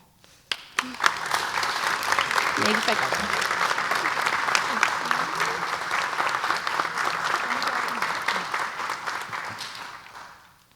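An audience at the UCHS Terrific Ten recognition dinner applauds warmly, a few sharp early claps swelling into sustained, even clapping for about ten seconds before tapering off.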